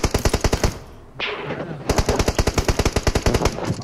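Rapid automatic gunfire in a multiplayer shooter game rattles in fast, loud bursts, pausing briefly for a single shot before resuming in a steady stream.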